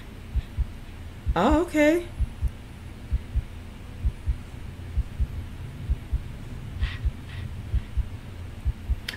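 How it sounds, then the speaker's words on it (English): A steady, regular heartbeat pulse opens a Kingdom Hearts soundtrack piece, thumping low and evenly throughout, with a brief rising synth swell early on and a short spoken reaction over it. "we starting off with this heartbeat"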